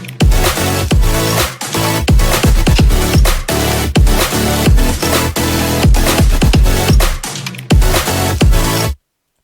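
LFO-chopped synth chords play with punchy drums, loud and rhythmic with steady beat-driven pulses throughout before stopping suddenly.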